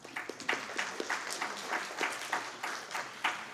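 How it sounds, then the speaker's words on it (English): A hall audience at a corporate mid-year review event claps in a round of applause as a manager is invited on stage for a lucky draw, with steady, moderately loud clapping that swells in uneven pulses. "A round of applause"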